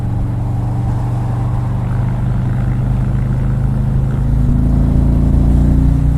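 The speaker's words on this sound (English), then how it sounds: "this V-twin sounds delicious" A 2018 Harley-Davidson Ultra Limited with a 107 V-twin engine cruises on a freeway, its low, steady rumble loud and close, rising slightly in pitch and volume toward the end.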